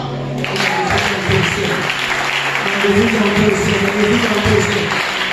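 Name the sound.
congregation applauding in church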